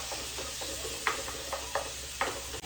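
Ground meat browning in a frying pan, a soft steady sizzle under four or five distinct scraping strokes as it is broken up and stirred, fairly quiet and close.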